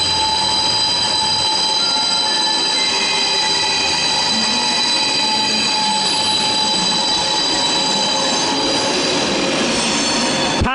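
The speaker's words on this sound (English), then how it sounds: "Got a Thalys service coming in, presumably heading to Paris Gare du Nord." A Thalys high-speed train pulls into Köln Hbf, a loud, continuous rumble with high metallic wheel squeal and brake hiss holding steady throughout, close at hand in the station.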